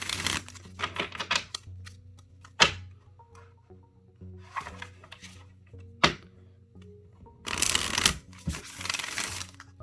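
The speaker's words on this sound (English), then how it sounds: "let me go ahead and shuffle the rest of the deck here" Several brisk bursts of oracle cards being riffled and shuffled at close range, separated by short pauses, over a steady low hum.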